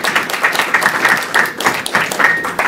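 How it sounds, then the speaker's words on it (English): An audience at a New York City Voter Assistance Advisory Committee meeting applauds, a steady patter of clapping from many hands with a few faint voices underneath, moderately loud and close. "Can you just give another round of applause for our current youth poet"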